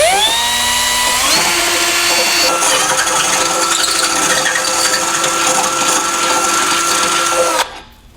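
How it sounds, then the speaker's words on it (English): A power drill with a 1/2 inch bit boring through the body of a 2019 Chevrolet Sonic, a loud sustained whine that steps up in pitch early on, then grinds steadily before cutting off abruptly near the end. "So I'm going to take a 1/2 inch drill bit."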